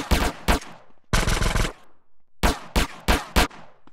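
Gunfire in GTA San Andreas during a clash between CJ and police: loud bursts of rapid automatic shots, a short volley, a longer sustained burst, then several more quick bursts in succession, close and with no voices.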